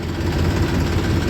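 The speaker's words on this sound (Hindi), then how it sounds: "ट्रैक्टर स्टार्ट ही रखा है" A tractor engine idles steadily at a sugarcane mill weighbridge, hauling a loaded cane trolley; a continuous low, even rumble with no pauses, close and fairly loud throughout.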